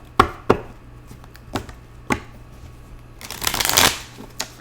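A deck of tarot cards shuffled by hand up close, with several sharp single taps followed by a louder riffling burst near the end.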